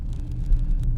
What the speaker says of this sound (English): now we're just out on a drive